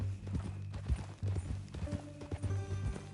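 Horse hooves in Red Dead Redemption 2: a steady, close clip-clop of a horse walking, with a low hum and faint ambient tones underneath.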